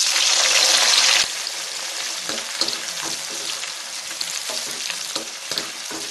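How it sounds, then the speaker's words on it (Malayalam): Bitter gourd (pavakka) frying in hot oil gives a loud, steady sizzle that drops slightly after the first second, with scattered clinks and scrapes of stirring throughout and no voices. "പാവയ്ക്കയും ഇതുപോലെ 2 പ്രാവശ്യമായിട്ട് പൊരിച്ചെടുക്കാം"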